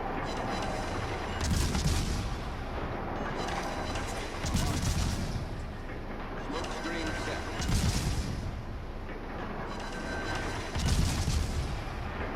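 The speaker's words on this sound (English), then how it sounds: "Rapid fire on this gearing is awesome." Gearing destroyer in the naval combat game World of Warships firing rapid salvos: booming bursts about every three seconds over a constant rumble, with a voice talking at times.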